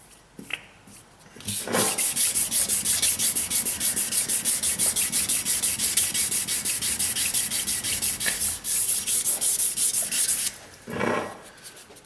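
Continuous rhythmic wet sanding of metal on a Ford F-150, a rapid back-and-forth scraping against a hard surface, loud and close for about nine seconds before it stops.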